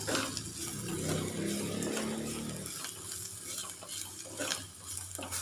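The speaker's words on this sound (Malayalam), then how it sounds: "ഈ പൊടികളുടെ പച്ച മണം മാറുന്നവരെ ഒന്ന് വഴറ്റി കൊടുക്കാം" Chili powder and ground spices sautéing in a pan for a Kerala brinjal stir-fry, a close continuous sizzle with soft stirring scrapes throughout, no voice.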